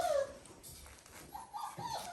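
A Dalmatian puppy whimpers in a pen, faint high thin whines and short yips coming in a few brief bursts, close but quiet.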